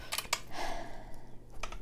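Scissors snip through antique lace in a few quick crisp cuts close by, followed by a brief rustle of fabric and another snip, all quiet and with no talking.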